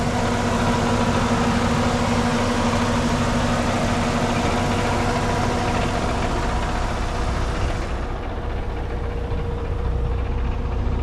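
A 1994 Porsche 968 idles steadily with a constant low hum, close and even for several seconds, with a faint rattle from a loose exhaust hanger.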